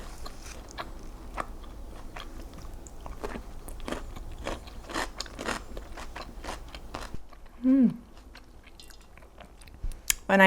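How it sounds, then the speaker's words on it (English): Someone bites into crispy cheese burekas pastry served with tomato, onion, pickles and boiled egg, giving a run of close, crunchy chewing clicks through the first seven seconds, then a brief voiced sound near the end. "When I eat the Burekas,"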